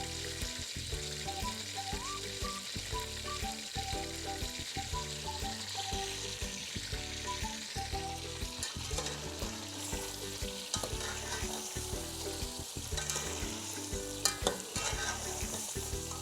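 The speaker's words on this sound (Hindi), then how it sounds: "जब आप इसके अंदर चिकन डालते हैं, पहले ऑयल को अच्छे तरीके से गर्म कर लेना चाहिए" Chicken sizzles steadily in hot oil for a shahi korma, with stirring and utensil scrapes recurring rhythmically throughout, close and continuous, with no talking.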